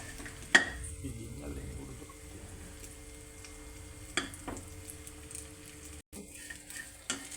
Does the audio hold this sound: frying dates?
yes